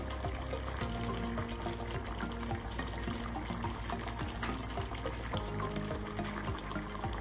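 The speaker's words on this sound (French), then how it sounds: "Nous allons donc rajouter un petit peu de farine diluée dans un peu d'eau." Flour diluted in water poured into a simmering quince tagine sauce, a soft continuous liquid trickle and bubbling that stays faint and steady throughout.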